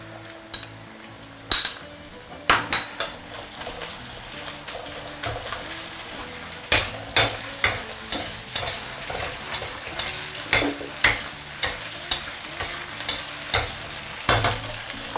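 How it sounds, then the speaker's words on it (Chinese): Bean paste, fermented black beans and sweet bean sauce are stir-fried in a wok. A spatula strikes and scrapes the metal in loud, regular clanks over a continuous sizzle, slow at first and then rhythmic, roughly twice a second. "豆瓣一定要提前给它炒香"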